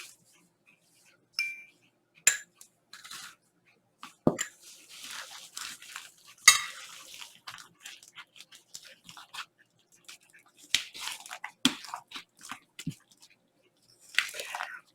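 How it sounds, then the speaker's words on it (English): Walnuts and raisins are stirred into thick pumpkin bread batter, making sparse, close, sticky squelches and scrapes in irregular bursts separated by near-silence. "Now that we have our batter mixed, I'm going to stir in the walnuts and the raisins."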